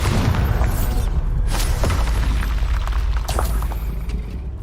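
Bombarda blasting spell going off in Hogwarts Legacy, a dense rumbling boom with sharp bursts over a continuous loud low roar, no talk.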